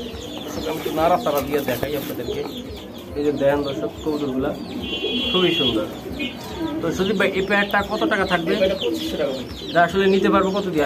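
Pigeons at a pigeon farm selling local and racer breeds coo and flutter around people talking nearby, with bird calls mixed under and between the voices.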